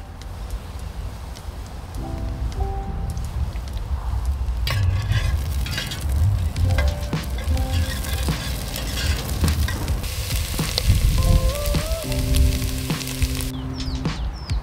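Ginger and garlic sizzle and fry in a pot for a mutton bunny chow, a steady loud crackling hiss with scraping stirs and occasional clanks of a utensil against the pot, with no talking.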